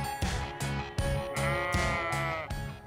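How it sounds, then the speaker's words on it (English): Sheep from a 450-strong flock kept for fine, Merino-quality fleece bleat repeatedly and close by. Several loud, wavering calls follow one another in quick succession, some overlapping. "The 450-strong flock is maintained by Susie."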